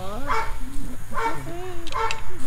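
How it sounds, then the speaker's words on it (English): Two dogs at a pet care and transportation business ribbon cutting, one giving short yips and barks in three bursts with faint whimpering pitch, heard close over a busy background of people talking. "And that's Dinah, my other dog."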